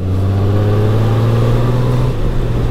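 Motorcycle accelerating hard during a brief speed run on a road, a loud steady engine drone with rising harmonics, shifting pitch near the end, close and continuous with no talk.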